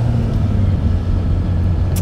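A motorhome drives along the Monaco race track, its engine and road noise a loud, steady low rumble heard from inside, with a brief bright click near the end and no talk.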